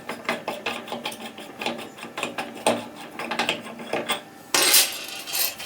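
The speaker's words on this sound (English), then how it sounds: "I'm going to take this spindle out as well." Metal parts clicking and ratcheting as the spindle is worked out of a Wilton vise during repair, a close series of irregular mechanical clacks and rattles ending in a louder scraping burst, with no speech.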